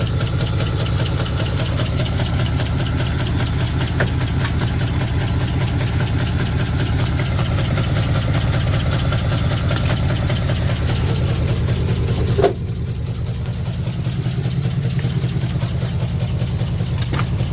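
A cheap auction car's engine idles steadily with a rough, rhythmic low rumble and a possible exhaust leak, running continuously up close with no talk; a brief clunk near the end slightly lowers the sound.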